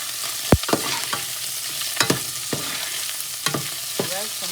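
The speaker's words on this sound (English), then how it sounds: "I'm going to fry it for about 3 minutes. Then I'm gonna throw my cabbage." Cabbage frying in a hot pan, a steady broadband sizzle with several sharp scraping stir strokes spaced about a second apart, close and fairly loud, no voices.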